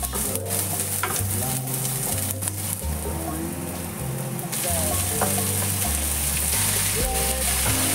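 Garlic sautés in a hot pan for pad krapao, a loud, close sizzle with spattering crackles and stirring scrapes, backed by steady rhythmic music.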